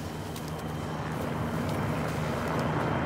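A helicopter in Call of Duty Modern Warfare 2 passes by as a continuous rumbling whir under broadband wind-like noise, steady and moderately loud, with no speech.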